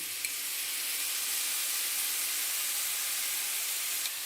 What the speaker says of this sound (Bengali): একটু ভালো করে কষিয়ে নেব মশলাগুলো।